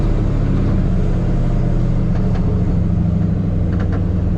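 A boosted Ford Mustang Mach 1 on drag wheels and illegal tires cruises through town, its engine a deep, steady low rumble with a couple of faint higher blips near the end.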